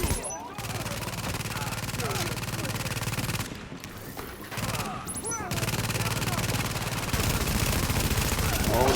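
A light machine gun fires long sustained bursts in the shooter game The Division, a dense continuous rattle with a short break midway, loud and close over steady game noise.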